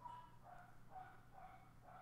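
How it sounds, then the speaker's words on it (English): A dog barks several times in the background indoors, with short, evenly spaced yelps that come through faint and distant over a quiet room hum. "I don't know if you guys can hear my dog barking in the background."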